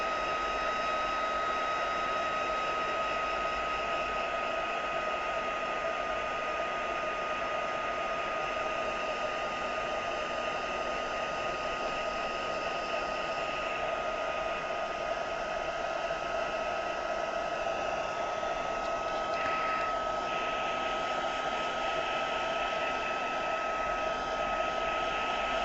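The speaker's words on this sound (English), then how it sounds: "I'm going to get a quick blast in my heat gun again." A heat gun blows hot air with a steady, loud, close rushing whine that holds unbroken for nearly half a minute, with no voices.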